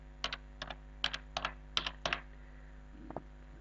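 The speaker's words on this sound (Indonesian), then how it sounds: "Kita bisa ketikkan Elementor" Typing on a computer keyboard while searching for a page-builder plugin: about a dozen crisp, close keystrokes in small quick bursts, with a short gap before a last softer tap, over a quiet background with no talk.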